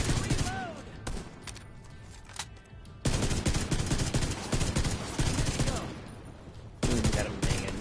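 Enemy minigun fire in the video game The Division 2, heard as dense, sustained bursts of rapid gunfire that cut in loudly, thin out, then surge again, with a voice talking over the shooting.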